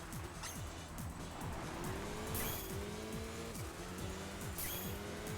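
A race car engine in Enthusia Professional Racing revs up and shifts repeatedly, its pitch climbing and dropping in short steps, with tire noise underneath and a steady, moderately loud drone.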